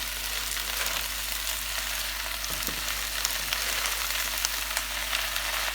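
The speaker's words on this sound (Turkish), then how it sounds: "Arkadaşlar ıspanağımız da kavruldu" Spinach for a gözleme filling sautés in a pan with a soft, continuous sizzle and faint crackles, steady throughout with no talking.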